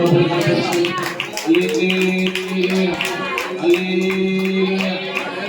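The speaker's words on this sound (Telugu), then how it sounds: "గట్టిగా చప్పట్లు కొడుతూ" A church congregation at a Telugu Christian worship gathering claps loudly and steadily in rhythm, the claps running throughout beneath sustained singing voices and music.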